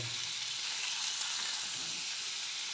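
Washed potatoes and pumpkin hit hot oil with tempering spices in a pan, giving a steady, close, full hiss of sizzling that holds evenly throughout.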